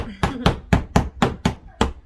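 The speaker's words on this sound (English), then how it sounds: "You just want to hammer them and keep them as straight as possible." Hammer blows drive nails into a wooden farmhouse sign, seven sharp, evenly spaced strikes in quick succession, loud and close with a solid woody thud.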